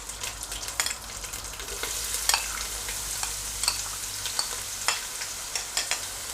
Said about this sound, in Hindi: अब इसे अच्छे से फ्राई कर लेंगे।